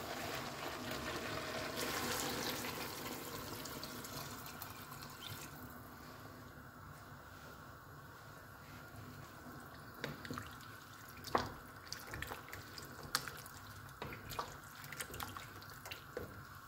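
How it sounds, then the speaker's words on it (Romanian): Water splashes and trickles steadily into a pot of yellow bean soup, with a few sharper drips and clinks toward the end; no talking. "Iar acum voi adăuga apă."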